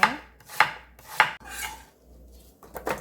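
A knife chops radish into thin square slices on a cutting board for a quick radish and napa cabbage kimchi, giving a few sharp, evenly spaced near cuts with short quiet gaps between them.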